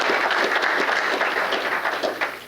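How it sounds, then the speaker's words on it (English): An audience at a mayor's city employee recognition awards ceremony gives a round of applause, a loud, dense and steady wash of clapping that tapers slightly at the end. "round of applause"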